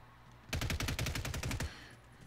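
A snub-nose Basilisk gun fires in a video game: a rapid, loud burst of about a dozen close, evenly spaced shots lasting roughly a second, framed by quiet background.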